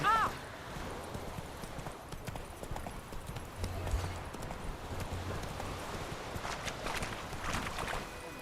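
Roach the horse in a video game, hooves clip-clopping in a steady trotting rhythm at moderate distance, with game ambience and a brief horse snort; a voice talks over it at times.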